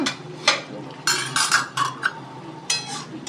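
Sugar being stirred in a pan that is then covered again, with a series of close metallic clinks and scrapes from a spoon against the pan in an irregular rhythm.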